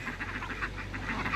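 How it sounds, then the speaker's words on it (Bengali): Common ducks quack in a close, steady chorus of short overlapping calls, with no voices over them. "আর এই পাতি হাঁসগুলো"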